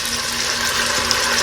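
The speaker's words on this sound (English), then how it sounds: "I'm going to put just a smidge of water down here at the bottom" Water running steadily into a cooking pot with carrots and dark greens, a small splash poured in for smothered chicken; a continuous close hiss and trickle with no talk.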